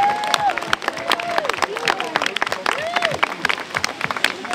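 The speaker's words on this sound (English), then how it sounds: "especially Tom, a nice round of applause and say thank you" Crowd applause for volunteers at an outdoor charity walk against hunger, steady clapping throughout with high whistles or cheers rising over it and voices chattering underneath.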